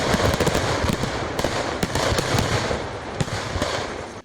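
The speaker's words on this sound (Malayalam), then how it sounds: "തുരുത്തിലേക്ക് ആരെയും അടുപ്പിക്കാതെ തുടരെ സ്ഫോടനങ്ങൾ." Firecrackers go off again and again at a fireworks storage shed during a temple festival blaze, a loud, relentless crackle of popping bangs with sharper blasts scattered through it, and no talking.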